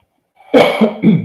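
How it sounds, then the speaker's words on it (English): A single loud, close cough burst in two or three harsh bursts after a moment of silence. "I apologize for the cough."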